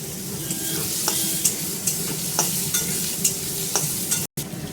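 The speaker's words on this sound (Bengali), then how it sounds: "দিয়ে আমি লঙ্কাটাকে সরিয়ে রেখে আগে আলুটাকে ভেজে নেব" Potatoes fry in oil over a nigella seed tempering, making a loud, close, continuous sizzle with regular stirring clatters and crackles, briefly cutting out near the end, no voices.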